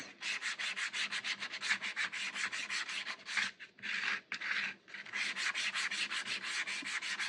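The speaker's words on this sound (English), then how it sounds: "I'm going to sand my star." Rapid, rhythmic rasping strokes of sandpaper on a wooden star, close and steady, with a brief uneven pause midway before the regular back-and-forth resumes.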